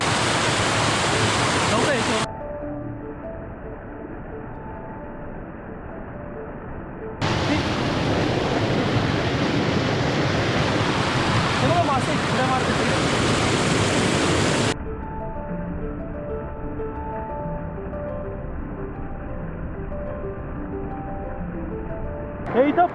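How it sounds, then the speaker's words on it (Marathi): A rain-swollen waterfall during a monsoon flood gushes with a loud, steady rushing roar that twice gives way to quieter, muffled stretches before returning. "पाणी आहे बघा धबधबा निर्माण झाला"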